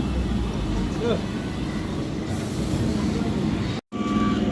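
A passenger train running and rumbling steadily with broadband rail noise close by, broken by a brief dropout near the end, with no talk heard over it.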